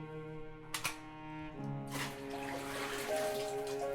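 Running water in an apartment in the video game Homesick, a soft splashing trickle that swells into a steady rushing flow over faint tonal background music.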